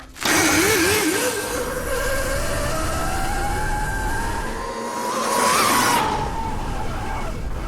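An electric supermoto pit bike runs flat out on a dirt straight, its motor whine rising steadily in pitch over several seconds with tyre and wind noise, loud and close, then easing slightly at the end.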